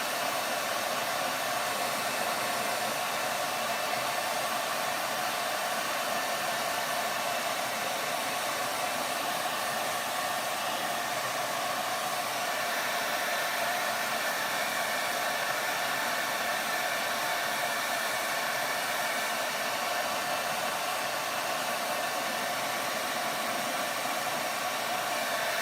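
A hair dryer runs steadily and close for the full stretch, blowing over freshly painted furniture with an even, unbroken whooshing roar.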